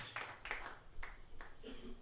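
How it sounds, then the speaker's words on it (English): Four or five sharp claps from a church congregation, spaced roughly half a second apart and fairly faint, with some voices mixed in toward the end. "give a clap offering to the Lord"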